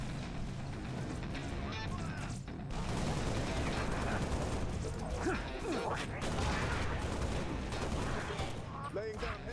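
Gunfire in the video game Halo Reach, dense continuous bursts of shooting and explosions mixed with game noise, loud and busy throughout.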